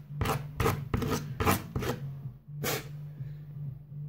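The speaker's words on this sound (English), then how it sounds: "gonna take another sanding" A custom CCBS toy bone is sanded by hand in several quick rasping strokes, each a short scratchy burst, close and clear, with a pause before a final stroke over a low background hum.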